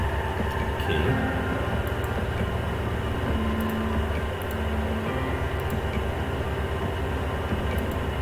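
Trains in Cities: Skylines make a steady, continuous rail rumble with faint droning tones and no breaks, heard alone without any talking.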